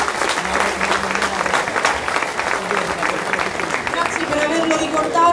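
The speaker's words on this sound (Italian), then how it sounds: "Un applauso, grazie." Audience applause at a regional football awards ceremony honoring a coach: sustained, dense clapping from a crowd with cheering and voices mixed in throughout.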